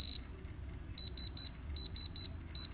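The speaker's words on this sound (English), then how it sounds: "when it's beeping like that, that means it's real" A diamond tester's high electronic beeper sounds in short bursts, one longer tone followed by quick repeating pairs and triplets of beeps, close and clear.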